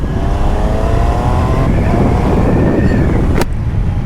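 A 2025 Triumph Tiger Sport 800 motorcycle accelerates on the road, its engine a loud, rising drone under heavy wind roar from onboard, with a sharp click near the end.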